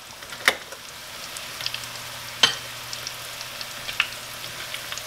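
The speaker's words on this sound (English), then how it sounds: "I guess the corn's been cooking about 6 minutes, 6 or 7 minutes" Fresh corn fries in a pan with a steady, soft sizzle close by, broken by a few sharp pops and spatters, with no voices.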